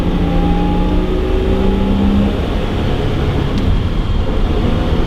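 Old classic BMW straight-six engine pulling steadily under load, a continuous loud drone with rising tones as it revs through the gears.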